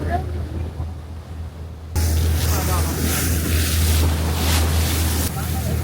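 Sea water washes and laps around a small boat off Lanzarote, a steady broadband wash joined by a low rumbling hum from about two seconds on, with wind buffeting the microphone throughout.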